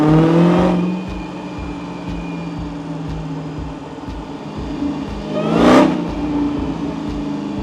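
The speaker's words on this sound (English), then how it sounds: "Want to hear that supercharger." The supercharged engine of a 2015 Dodge Challenger Hellcat revs loudly and close by, with a steady idle throb between two sharp rising bursts of revs.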